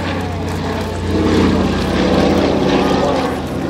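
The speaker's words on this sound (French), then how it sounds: "le Catalina ici dans le ciel de Biscarros" A Consolidated PBY Catalina seaplane flies over the Biscarrosse air show, its propeller engines a loud, steady droning rumble that swells slightly midway as it passes overhead, with no talk over it.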